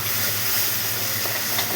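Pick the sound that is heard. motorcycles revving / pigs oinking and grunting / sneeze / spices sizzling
spices sizzling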